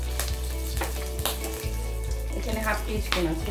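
Whole spices, five-spice panch phoron, sizzle in about two tablespoons of hot oil in a wok. The frying crackle is steady and close, with a few utensil taps and a voice speaking over it.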